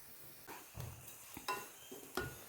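Chicken fries in a little oil in a pan, a soft sizzle broken by several short stirring scrapes and clinks at an uneven rhythm, close and fairly quiet with no voices.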